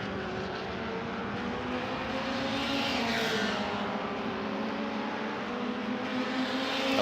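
A race car accelerates down the straight in an MRF 2000 race, its engine a steady, rising roar at a middle distance that swells briefly as it passes.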